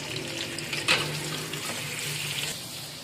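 Onions fry in a pan on an Indian-style stovetop, giving a steady hiss and crackle with a brief louder sizzle burst early on and no talking.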